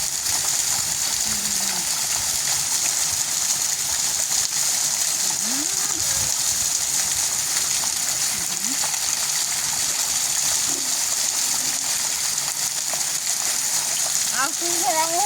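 Water from a forest waterfall pours and splashes steadily over a dog being washed, a constant loud rushing wash that fills the whole stretch with faint voices under it.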